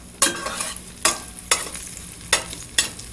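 Raisins fried in hot ghee sizzle in a close, soft hiss broken by six or seven sharp, evenly spaced scraping stirs, each a bright rasping burst over the frying.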